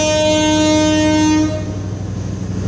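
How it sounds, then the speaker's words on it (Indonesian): A commuter train horn blares with steady harmonic tones for about a second and a half, then cuts off, leaving the rumbling clatter of the train rolling on rails between Blitar and Surabaya. "Dan ini kereta melanjutkan perjalanan"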